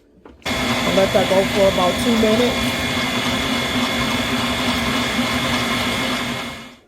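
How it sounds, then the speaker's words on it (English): An electric mixer whirs loudly and steadily through cinnamon swirl pound cake batter, a continuous motor drone with a brief spoken line over the start before it runs on alone. "Okay, we're going to give it a mix again."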